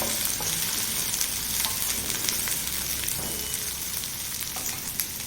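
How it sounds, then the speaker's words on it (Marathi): Okra (bhindi) fries in a pan over a medium gas flame for a spicy Marathi thecha, producing a continuous dense crackling sizzle with occasional faint stirring scrapes and no voices. "चांगली परतून घेऊया मीडियम गॅसवर भेंडी"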